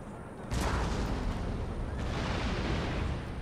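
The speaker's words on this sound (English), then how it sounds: "That's their only artillery now." Artillery fire in the video game Empire Total War, a sudden heavy cannon blast followed by sustained rumbling and a second boom about 1.5 seconds later, loud and continuous throughout.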